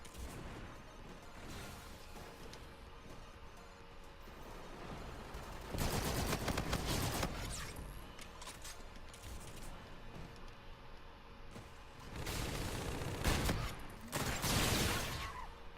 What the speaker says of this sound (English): I'm guessing it's a 3-shot burst?